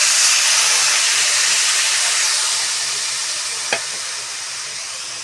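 Water splashed into semolina frying in a hot pan bursts into a loud, hissing sizzle that slowly fades, with one brief sharp clink from the pan partway through.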